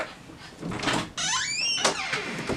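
A door is opened to let a dog in, giving a scraping slide and squeaky rubbing clatter up close before the noise settles.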